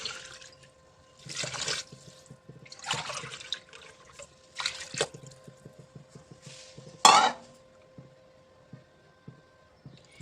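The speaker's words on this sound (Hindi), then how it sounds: "आप इसके अंदर अब ये पूरे 6 कप आप लोगों ने पानी डालना है।" Water poured into a pot of soaked rice for mixed vegetable rice, several separate pouring bursts with splashing and trickling, each one cup of six, followed by a sharp clink of a vessel near the end.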